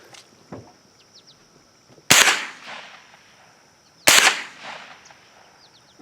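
Two sharp gunshots fired at bulletproof glass ring out about two seconds apart, each loud and close with a quick decaying crack, over a quiet outdoor background with faint bird chirps.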